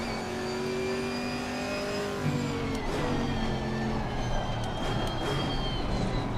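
A GT4 race car on the Nordschleife in a racing video game, its engine revving steadily as it drops through the gears and accelerates hard, held at an even level with no talk over it.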